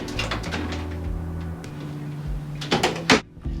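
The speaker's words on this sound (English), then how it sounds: "Check out how smoothly the door opens now after we've repaired it." A repaired front door swings open and shut, heard as soft rubbing and movement against steady background hum, ending in a couple of quick knocks and a firm latch click.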